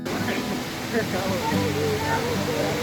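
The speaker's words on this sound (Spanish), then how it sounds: "Esta es otra parte donde se ve una cascada ahí." Waterfall at the Tava'i cenote in Caazapá, Paraguay, a steady broadband rush of falling water that holds even throughout, with a voice speaking faintly over it.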